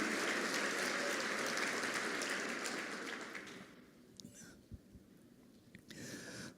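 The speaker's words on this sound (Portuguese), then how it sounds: "Se vai aplaudir, aplaude de verdade." A church congregation applauds during a sermon. The clapping is soft and distant, fades out after a few seconds and leaves quiet room noise with a few faint knocks.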